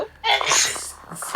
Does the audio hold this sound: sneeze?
yes